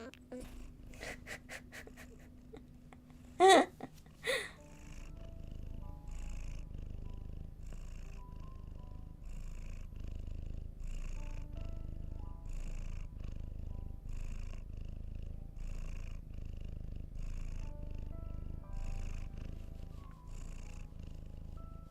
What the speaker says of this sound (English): Are you even purring for the people? You need to purr for the people.